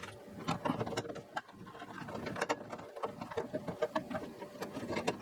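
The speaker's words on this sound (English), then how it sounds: "Tighten up our screws. We'll just put our light shroud back up into place." Small screws being tightened by hand on the metal light shroud of a kitchen range hood, heard as quiet, irregular clicks, taps and scraping close by. No one speaks.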